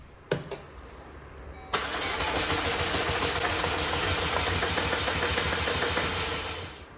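A Chevrolet Malibu's engine is cranked and fires up after its belt tensioner was refitted. It catches with a sudden burst, then settles into a steady, close idle that holds to the end.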